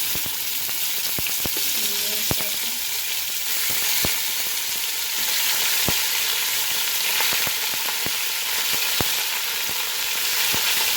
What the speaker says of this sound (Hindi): हमारा बीफ कितनी अच्छी तरह से भून गया